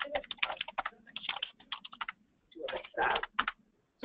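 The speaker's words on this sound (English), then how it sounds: "Somebody's typing." Someone types on a computer keyboard during an online meeting, with quick clattering bursts of keystrokes separated by brief pauses, close and fairly quiet.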